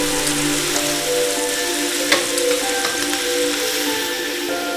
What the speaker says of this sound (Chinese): 烧猪肉，小火煸炒出油脂，用来烹制鸡肉